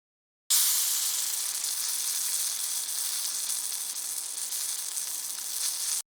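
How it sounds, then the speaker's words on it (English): Food sizzles on a grill for a 4th of July cookout, a steady bright frying hiss that starts abruptly and holds evenly close up, with no voices. "that's food on the grill, getting ready for a 4th of July cookout"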